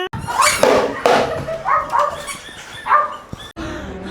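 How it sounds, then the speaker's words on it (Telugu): A dog barks and yips several times in short bursts, close and fairly loud, with brief whimpering sounds between. "ఇది కుక్క"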